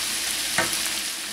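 Italian sausage cooking in a pan for chilli, sizzling steadily with a short scrape of stirring midway, close and alone.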